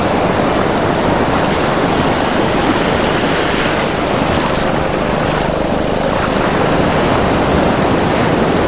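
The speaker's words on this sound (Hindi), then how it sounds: "तो ये देखिए, ये लहर आ रही है, कितनी तेज़ आ रही है।" Sea waves break loudly and continuously on Chandrabhaga beach at Konark, Odisha, as a dense roaring surf heard close up with wind buffeting the microphone.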